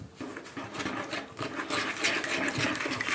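Warm water is poured into a bowl holding salt, sugar and yeast for homemade bread dough, a close splashing and trickling that swells louder toward the end, with no talking.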